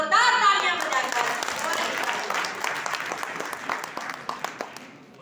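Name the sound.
audience applause at a poetry recital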